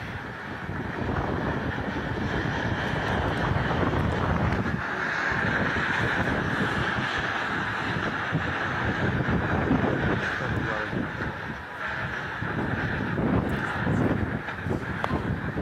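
Roaring, gusting wind from a tornado whirlwind during heavy rain in a residential area of West Jakarta, loud and continuous with heavy wind noise on the microphone and faint voices underneath.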